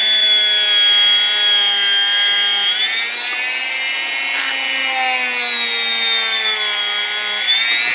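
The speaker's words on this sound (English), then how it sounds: "Yellow compound is what I use on the buffing wheels, my bench polishers" A bench polisher's buffing wheel polishes a Singer 66 class bobbin case with yellow compound: a steady, loud whine with a high tonal hum that shifts pitch slightly as the metal part is pressed against the spinning wheel, with no talk.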